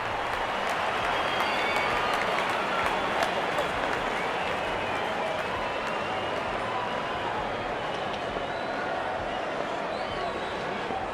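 A cricket stadium crowd roars and applauds after a big hit, a dense, steady wash of cheering and clapping that holds loud for the whole stretch with no break.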